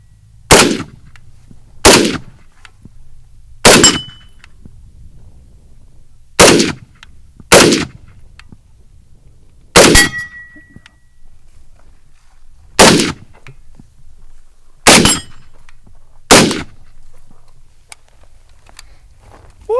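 A Beretta AR70/90 rifle fires on its low gas setting, about nine single loud, sharp shots at uneven intervals of roughly one to three seconds, each ringing briefly into quiet outdoor ambience.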